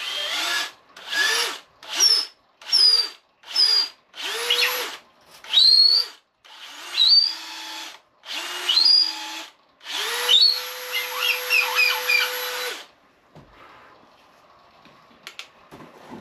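Power drill spinning a reamer through the rear grip of a spinning rod, about ten short bursts of whirring followed by one longer sustained run, close and loud with no talking.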